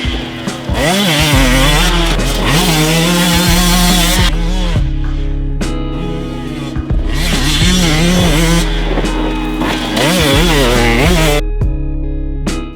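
A 2022 Husqvarna TE150i fuel-injected two-stroke dirt bike engine revs loudly and continuously, rising and falling through repeated throttle blips with a buzzing, raspy tone and brief dips between pulls.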